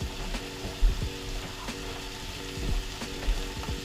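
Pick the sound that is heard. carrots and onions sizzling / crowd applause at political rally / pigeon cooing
carrots and onions sizzling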